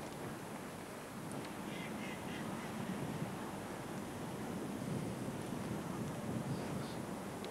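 River water rushing fast past the bank below an opened sluice gate upstream, a steady broadband wash with wind buffeting the microphone, continuous throughout, no talking.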